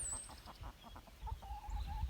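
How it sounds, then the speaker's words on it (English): Five hens clucking inside a homemade chicken tractor built from zip-tied cattle panels under poultry netting, a run of soft rhythmic clucks followed by a longer drawn-out note, close by with low outdoor rumble underneath. "We have 5 hens."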